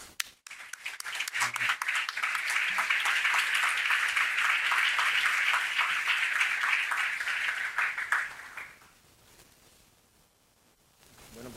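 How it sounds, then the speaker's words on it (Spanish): A seated audience at an architecture school academic ceremony applauds the visiting authors, a sustained, even burst of many hands clapping for about eight seconds before fading away to near quiet. "lo recibimos con un aplauso"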